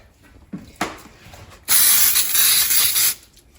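A couple of soft clicks and rustles, then a loud, steady aerosol hiss of Baker's Joy baking spray into a pan lasting over a second before cutting off.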